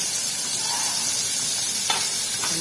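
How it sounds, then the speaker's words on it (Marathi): Boiled peanuts fry in hot oil, making a steady, close sizzling hiss with a couple of brief crackles near the end. "तेलात फ्राय करू आपण."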